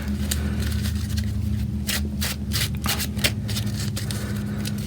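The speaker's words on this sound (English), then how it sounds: "So let's shuffle our player deck first before we draw that card" A Marvel Champions card game player deck is shuffled close by, with quick riffling bursts and soft flutters in a steady run, over a low constant hum.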